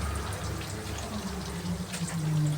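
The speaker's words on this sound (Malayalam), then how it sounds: "ഇച്ചിരി പച്ച വെളിച്ചെണ്ണ ഒന്നങ്ങോട്ട് നല്ലോണം ഒന്ന് പുറമെ ഒന്ന് ചിച്ചങ്ങോട്ട് ഒഴിക്കണം" Raw coconut oil poured over a kozhuva (anchovy) peera fish dish in a kitchen, giving a soft, steady liquid trickle at close range with faint background hiss.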